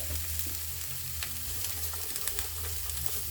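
Sliced onion browning in olive oil in a pan, a steady close sizzle with crackling pops and a low rumbling hum beneath, no voices.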